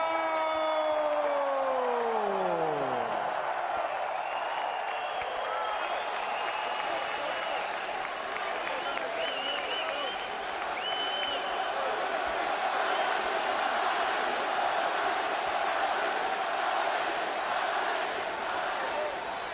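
A boxing arena crowd roaring and cheering before the Pacquiao vs Rios fight, a dense sustained roar with clapping and whistles, an announcer's drawn-out voice at the start over the noise.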